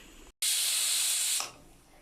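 A pressure cooker on a stove vents steam while beef curry cooks, a sudden loud hiss that starts after a brief silence, holds for about a second, then fades quickly.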